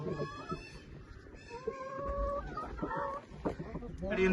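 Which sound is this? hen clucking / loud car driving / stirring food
hen clucking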